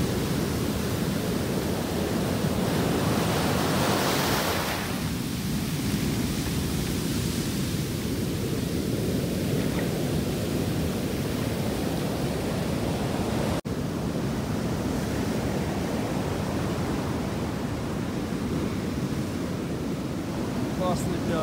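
Large ocean waves of three to four metres surf onto the beach at Playa Bluff in Bocas del Toro, Panama, making a loud continuous roar with heavy wind buffeting the microphone throughout.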